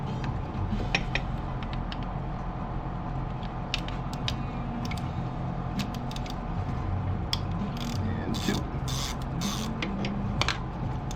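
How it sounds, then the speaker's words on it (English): A ratchet with a 10 mm deep socket and extension works bolts loose on a Mazda RX-7 throttle body, a long run of rapid clicking pawl ticks and metallic scrapes, close and steady with no speech. "we're going to use our 10 mil deep socket with another extension. And that's just so that we can reach these pesky bolts underneath"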